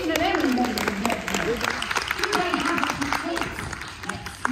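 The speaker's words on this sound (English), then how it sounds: "give them a big round of applause, Stephen and Emily" Audience claps for two children on stage at a science show for kids, with moderate, scattered applause under and around a presenter's voice as people talk through the clapping.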